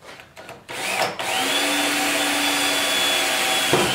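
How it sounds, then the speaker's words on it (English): A power drill bores a 3/16-inch hole through a plastic five-gallon bucket, a steady close whine running for about three seconds after a few short bumps, with no talking. "we're going to drill a 3/16 hole on our black dot."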